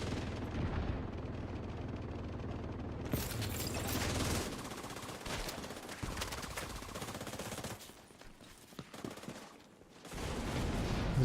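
Gunfire in The Division 2 video game: sustained bursts of automatic fire and heavy shots, loud and continuous, broken by brief lulls and mechanical clatter, with no one talking over it.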